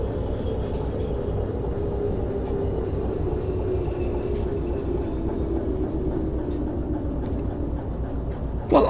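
A locomotive in the Derail Valley train simulator rolls along the rails with a continuous low rumble and faint rhythmic rail noise, steady and close, ending with a brief sharp clunk.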